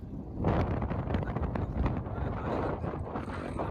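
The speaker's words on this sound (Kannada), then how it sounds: "ಈ ಥರ ಗಾಳಿ ಎಲ್ಲಿ ಸಿಗಲ್ಲ" Wind gusts across the hilltop at Bolumalai Fort near Krishnagiri, rumbling and buffeting the microphone in a steady, moderately quiet rush with rising and falling surges.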